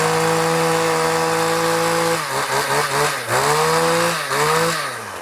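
An Echo PPT-2620H two-stroke pole saw engine runs close and loud with a steady buzzing drone, then revs up and down in a few uneven surges before easing off at the end, with no talking.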